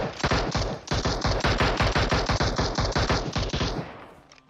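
Rapid automatic gunfire in the mobile battle royale game PUBG Mobile, a loud, close stream of sharp shots fired in quick bursts that cuts off abruptly near the end.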